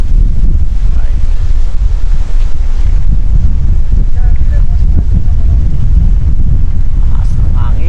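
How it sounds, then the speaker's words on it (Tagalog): Strong wind roars steadily into the microphone at a high outdoor viewpoint in Saudi Arabia, a constant low rumble with faint background voices beneath it. "Taas ng hangin, grabe."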